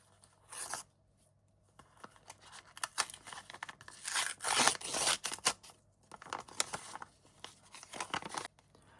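Paper crinkling and tearing as a small box-shaped paper sticker packet is torn open, a few sharp rips and rustles in bursts, close up with no talking.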